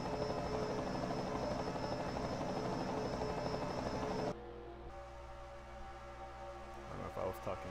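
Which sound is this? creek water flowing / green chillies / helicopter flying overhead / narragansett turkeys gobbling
helicopter flying overhead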